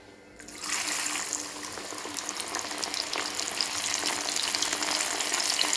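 Chana dal dropped into hot oil, bursting into a loud, dense crackling sizzle that stays steady and close for several seconds.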